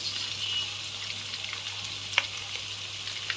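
Ginger and garlic paste hits hot oil with cardamom and bay leaf already in the pan for a spinach and meat curry, giving a steady, even sizzle throughout with one brief clink near the end.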